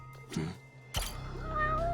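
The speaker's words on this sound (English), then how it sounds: "Oh, look, a cat." A cat meows a few times in a murder-mystery video game, short close calls over steady in-game background tones and music.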